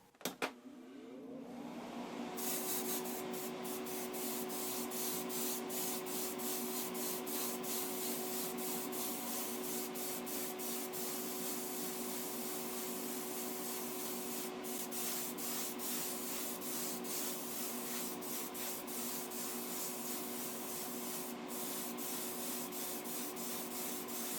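Spray gun laying candy paint onto a polished Hot Wheels Vintage Baja Beetle body, a steady close hiss that starts within the first couple of seconds and runs unbroken, with faint intermittent clicks.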